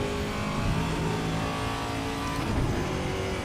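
A Dallara IR-18 race car engine drones in the Assetto Corsa racing simulator with a steady, sustained, buzzy whine and slight pitch shifts. It is fairly quiet and has no talk over it.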